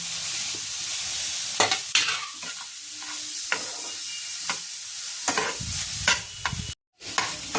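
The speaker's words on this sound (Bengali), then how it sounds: "পনিরটাও মশলার সাথে ভালো করে নাড়িয়ে দেবো" Paneer stirred into fried masala in a pan, giving a crackling sizzle with frequent scraping strokes of the spoon and a brief silent break near the end.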